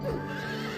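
A monstrous carousel horse in the Silent Hill 3 video game gives a short, close neigh over a steady droning game ambience, with no voices.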